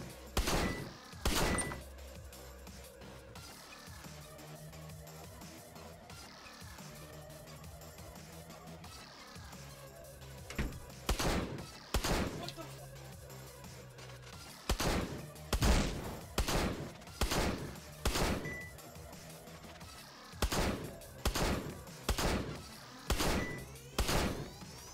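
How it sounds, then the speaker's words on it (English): Shotgun fire in the Xbox One game Paranautical Activity: loud repeated blasts in quick bursts of three to five shots, separated by brief pauses, over quiet game music. "You would think a shotgun would do more damage."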